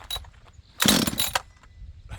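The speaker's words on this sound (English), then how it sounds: "Okay, see if this saw starts." An auction chainsaw on full choke attempting to start, with a loud burst of engine noise about a second long between quieter stretches of background sound.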